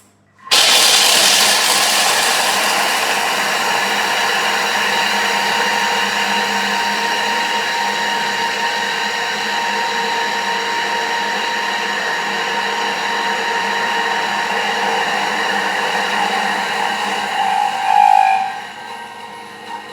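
A food processor whirs loudly and continuously as it grinds hazelnuts at speed 6, a steady motor drone with gritty rattling that shifts slightly near the end.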